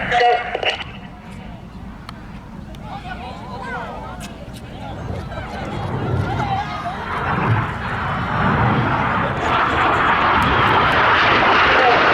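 Royal Air Force Red Arrows jets fly over the display line at an air festival at Ragley Hall. Their roar builds from distant to loud and sustained, while a commentator talks over it throughout.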